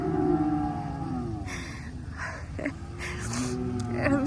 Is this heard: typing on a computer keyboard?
no